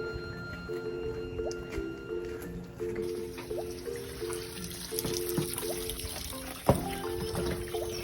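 Water flowing in a stream on a farm at night, a soft trickling and dribbling close by with occasional splashes, mixed with steady insect-like tones.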